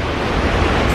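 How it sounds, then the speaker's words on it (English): Water churning in the wake of the Norwegian Bliss cruise ship sailing in Alaska, a steady broadband rush with wind noise, loud and continuous without any speech. "listening to the water churning"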